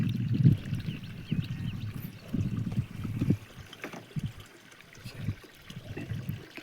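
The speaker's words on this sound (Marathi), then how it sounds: "मी हौद भरायला छोटा बोर चालू केलेला आहे हौदात" A small borewell pump runs water into a farm tank, giving a continuous trickling, gurgling flow with low rumbling surges that rise and fall, moderately loud and close, with no voices.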